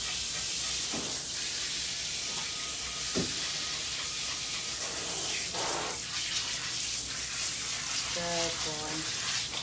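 Running water sprays and splashes steadily while a bichon poodle is bathed, a broad continuous hiss with brief vocal sounds over it.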